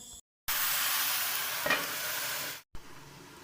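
Turmeric and salt being stirred into a hot pan of frying food, a steady loud sizzle and scrape lasting about two seconds, then a short pause and a quieter burst of stirring.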